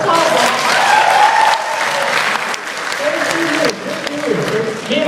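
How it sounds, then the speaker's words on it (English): Audience at an MIT talent show breaks into loud, sustained applause with scattered cheers, dipping slightly midway and then swelling again, while a voice talks over part of it. "good clap for them."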